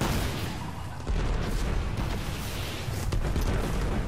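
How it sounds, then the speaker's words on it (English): Rocket explosions in the video game Destiny, fired while soloing the Nexus strike against a servitor: dense, continuous booming blasts and rumbling detonations fill the whole stretch, loud and close with no talk. "Right here, I got my rockets ready. I'm about to take out the last servitor."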